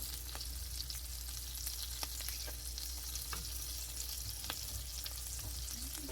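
An egg fries in a pan, giving a steady, moderately loud crackle of hot fat with scattered sharp pops throughout, close by and without any talking.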